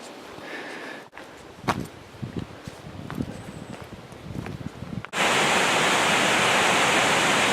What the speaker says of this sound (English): down below, you can hear it and see it through the foliage a little bit is the Quilcene River